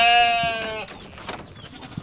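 A goat bleats loudly and close by in a village setting, one drawn-out wavering cry that fades, followed by faint rustling and scattered sounds.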